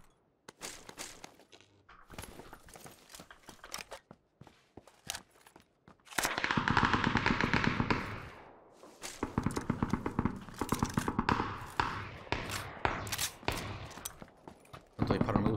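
Rapid gunfire bursts in PUBG, a battle royale shooter, crackle close and loud in repeated volleys, with sustained automatic fire over the second half between sharper single shots and brief pauses.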